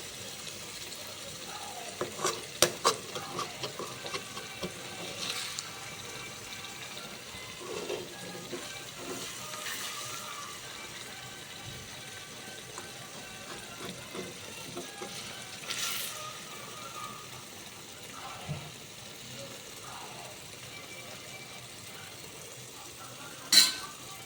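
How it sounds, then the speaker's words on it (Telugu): Eggs sizzle steadily in hot oil in a pan while a spatula stirs and flips them, with scattered clinks and scrapes over a constant frying hiss. "బాగా ఫ్రై చేసుకోండి. మధ్య మధ్యలో ఎగ్ని తిప్పివేయండి."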